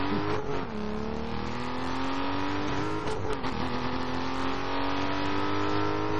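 An Aston Martin engine in Need for Speed Most Wanted drones steadily and loudly, its pitch gliding up and down as the car is driven, with no voices over it.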